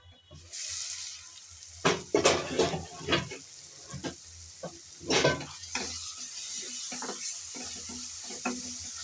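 Spiced pangas fish masala with tomato stirs and sizzles in a pan, with repeated scraping strokes of a spoon over a steady low frying hiss, close and moderately loud, no voices.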